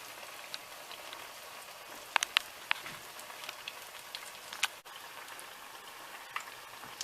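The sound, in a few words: plantain slices frying in hot oil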